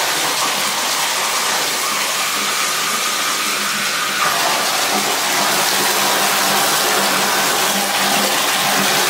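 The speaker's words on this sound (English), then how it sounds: "make sure it's diverted to the tub and flush it out" Water rushes steadily from a bathtub faucet set to hot and cold, a loud, continuous broadband gush filling the space with no voices and a slight rise in intensity partway through.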